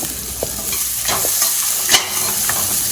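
Grated coconut frying in a pan with onions already sautéed, stirred with a few scraping strokes over a steady close sizzle, no talking.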